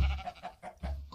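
Sheep in Minecraft bleat in several short, nasal calls, close and fairly loud, with brief gaps between them and no talking.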